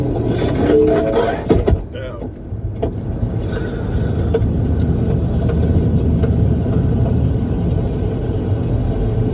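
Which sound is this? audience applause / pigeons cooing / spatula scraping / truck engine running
truck engine running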